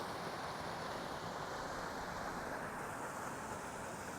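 Continuous rushing water of a mountain stream with waterfalls in Rocky Mountain National Park, a steady broadband roar, with some wind buffeting the microphone.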